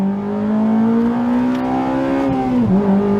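Honda K20 four-cylinder in a Civic Type R FD2 revving hard toward VTEC, a loud, steady rising engine drone that climbs in pitch, dips briefly near the end and then resumes, heard up close with no talking.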